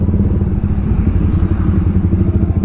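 A Kawasaki Ninja ZX10R superbike engine revving hard at full power on a road, a loud, deep, continuous growl with a throbbing rhythm, up close and steady throughout.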